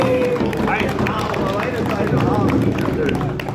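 A live audience at a medieval festival cheers and claps, a dense, continuous wash of applause and voices that stays loud and steady from start to finish.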